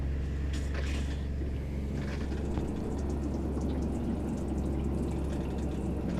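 Steady broadband rush of hot water running from an RV shower faucet, continuous and fairly close, with a low rumble underneath and a few faint drips.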